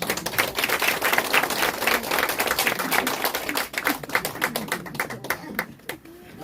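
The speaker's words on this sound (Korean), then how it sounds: "앞으로 모실 때 큰 박수로 환영 부탁드립니다." Clapping from an audience welcoming a speaker at an academy lecture, loud and dense at first, then thinning into scattered individual claps that trail off toward the end.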